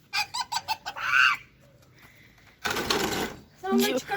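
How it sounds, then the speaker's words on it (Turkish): A bantam rooster clucks and squawks in short bursts close by, with a louder flurry of noisy sound partway through and people talking around it. "Bu horozun cinsi cin horozu."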